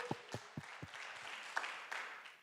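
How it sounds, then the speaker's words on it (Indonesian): A church congregation applauds during a Christian sermon, a few distinct claps at first that blur into soft, distant clapping, faint throughout. "berikan tepuk tangan bagi Tuhan Yesus"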